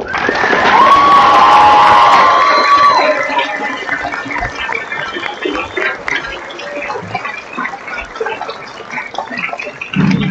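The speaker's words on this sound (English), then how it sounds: "please join me in a round of applause" A large crowd at a 4-H conference closing assembly cheers loudly with whoops and shouts, then settles into sustained applause and scattered calls that continue to the end.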